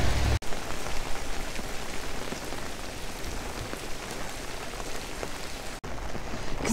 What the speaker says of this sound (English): It's still absolutely lashing it down